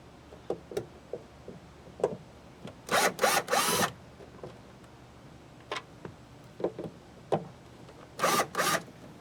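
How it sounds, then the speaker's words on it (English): A Phillips head driver removes trim screws on a 1997 Jeep Wrangler. Short bursts of driver whirring come in two clusters among scattered clicks and ticks, close and moderately loud. "I'm just using just a Phillips head driver"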